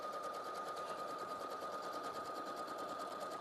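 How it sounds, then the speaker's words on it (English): A sewing machine stitches rows steadily, its fast, even mechanical whir running close and unbroken throughout with no talk. "And then I'm just going to go sew away from the line the other end."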